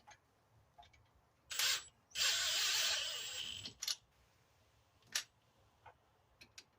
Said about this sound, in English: This is a powerful drill.